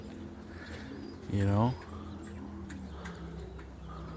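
Young roller pigeons at the loft, in only their second week of flying, give a short burst of cooing that stands out loudly for about half a second over steady background noise, with a man's brief remark nearby.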